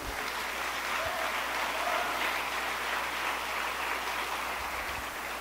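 A church congregation applauding during a sermon, a dense steady wash of clapping that lasts throughout at an even level, with no voices standing out.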